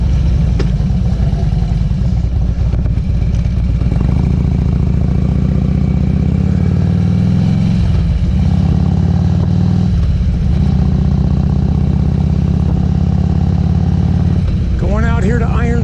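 A Harley-Davidson motorcycle rides along a road toward Granite Basin Lake, its engine rumbling loud and steady throughout, with pitch shifts as it changes speed and buffeting wind noise.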